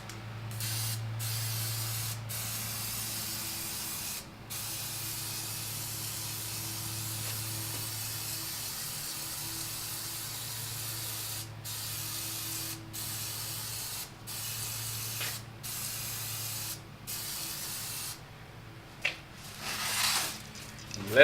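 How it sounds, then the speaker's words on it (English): 3M polystyrene insulation spray adhesive hisses from a can in long continuous bursts broken by several short pauses, close up, with a low background hum beneath. "we were going to use the 3M polystyrene insulation spray"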